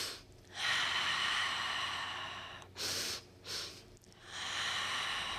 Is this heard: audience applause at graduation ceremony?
no